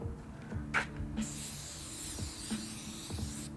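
Spray can hisses out Aqua Brilliante paint in a few short bursts and one longer spray, fairly close and moderately loud, with no talk.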